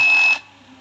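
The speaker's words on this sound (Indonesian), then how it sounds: "Di sini buzzer juga menyala." A loud, steady high-pitched electronic fire alarm buzzer sounds briefly, then cuts off, leaving a quiet low hum.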